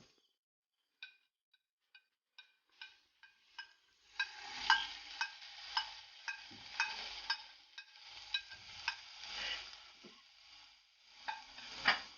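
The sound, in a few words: stirring green masala into chicken in a pan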